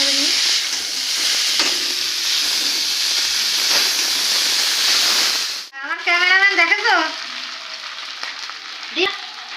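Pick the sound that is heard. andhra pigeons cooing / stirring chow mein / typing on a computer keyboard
stirring chow mein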